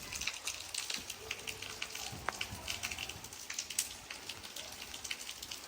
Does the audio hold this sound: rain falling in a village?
yes